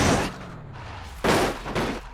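Crashing cars in BeamNG.drive, a Lada/VAZ damage test: a loud broadband engine roar runs throughout, broken by two sharp heavy impact bursts near the middle and end, with no talk.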